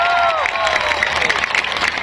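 Audience at an evening public event in Jember, Indonesia applauds loudly and steadily throughout, with cheering voices and talk mixed into the dense clapping.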